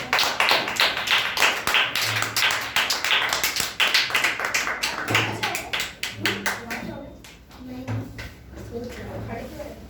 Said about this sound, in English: Clap for Vaibhav.